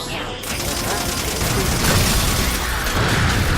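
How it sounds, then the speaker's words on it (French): Assault rifle gunfire in the video game Halo 4 rattles densely through a busy in-game battle, with continuous shots and booms blending into a loud, dense wash. "Fusil d'assaut."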